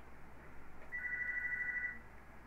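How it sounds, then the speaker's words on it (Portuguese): A telephone rings inside a Minecraft Twilight Forest world, one steady electronic ring lasting about a second that rises clearly over a low, hissing game ambience. "Ih, telefone, eu tô ouvindo o telefone."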